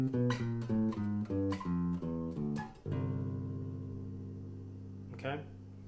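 A jazz bass line walks up a major scale with a chromatic passing tone between the fifth and sixth, played as clear plucked notes in steady rhythm, ending on a long ringing note and a final soft pluck.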